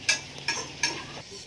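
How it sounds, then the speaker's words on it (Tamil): Roasting coconut is stirred in a pan, giving three quick scraping strokes at a steady rhythm, close and faint. "இந்த மாதிரிதான் தேங்காயை போட்டு நல்லா வறுக்கலாம்"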